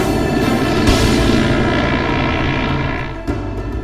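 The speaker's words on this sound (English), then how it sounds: "the 215s finally take off and head east over the North Atlantic." Canadair CL-215 water-bomber aircraft taking off for a North Atlantic ferry flight, a steady, loud, droning propeller-engine roar that holds throughout with little change.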